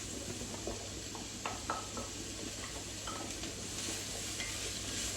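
Finely chopped cabbage and onions cooking in a pan give a continuous soft sizzle, broken by scattered light clicks and scrapes of a utensil stirring, with no talking.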